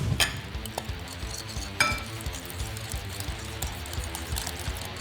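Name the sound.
mixing egg yolks, brown sugar and cayenne in a bowl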